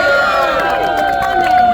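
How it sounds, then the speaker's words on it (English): At an East Village rally to keep Beth Israel Hospital open, a crowd cheers and claps for two state senators, a brief loud burst of whoops and applause with voices mixed in. "Give them a big round of applause."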